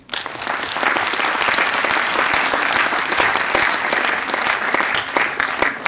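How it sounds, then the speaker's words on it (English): Sustained applause from an audience at a motivational talk on focusing on goals, steady dense clapping filling the whole stretch at a loud, even level with no voices over it. "Let us clap for them."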